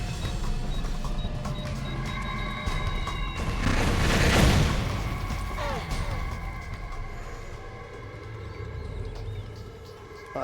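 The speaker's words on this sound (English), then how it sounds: "Bitch hit me with a damn flashbang" A flashbang grenade goes off in Metal Gear Solid 4: Guns of the Patriots, a broad loud burst rising out of steady game ambience and beeping tones, then fading into a ringing, muffled wash.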